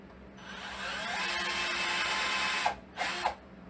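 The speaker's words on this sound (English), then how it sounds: "He's drilling the holes based on the pattern mark that he made." An electric drill boring holes into wooden legs of a chest, whining steadily for about two and a half seconds, then stopping and starting again in short bursts close by.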